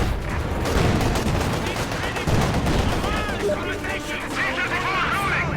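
Dense, sustained gunfire from the real-time strategy game Company of Heroes 2, rapid bursts and overlapping shots filling the whole stretch at a loud, steady level, with battle noise and voices mixed in.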